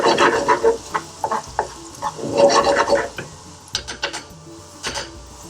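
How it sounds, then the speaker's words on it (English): Spices frying in a pan for a chana saag masala curry: a brisk sizzle broken by clinks and scrapes of a spoon stirring against the metal, close and fairly loud, with no talking. "just fry those out for about 30 seconds."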